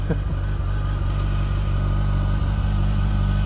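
A vehicle engine idles steadily after starting, a loud, continuous low rumble with a constant tone and no revving or talk.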